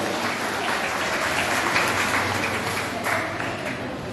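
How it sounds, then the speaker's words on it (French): An audience applauds two rival schools' expert teams at a quiz final in Limonade, a steady, dense wash of clapping that holds evenly throughout with no voices standing out. "je vous invite, mesdames, messieurs, à applaudir les 2 experts antagonistes qui sont devant vous aujourd'hui"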